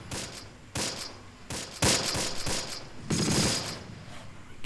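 Bursts of gunfire in the wartime strategy game Close Combat during a night assault, several loud, sharp volleys crackling in quick succession with brief gaps between them.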